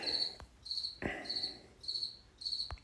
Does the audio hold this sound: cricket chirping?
yes